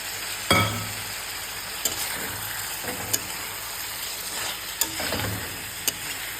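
Jackfruit and browned potato pieces fry in a pan, a constant sizzle broken by several sharp spatula scrapes and knocks against the metal, close up and with no voices.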